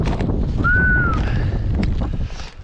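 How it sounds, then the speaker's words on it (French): Strong cold wind buffeting the microphone in an open field during seed-bed preparation and sowing, a loud continuous low rumble with gusty surges, a thin whistling tone rising briefly partway through, easing off near the end. "il tient un vent, il fait un froid"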